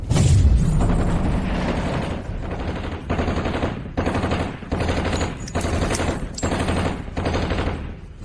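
Rapid animated gunfire hammers on for the whole stretch in loud bursts of machine-gun fusillade, with a booming impact near the start and brief pauses between volleys, no voices heard.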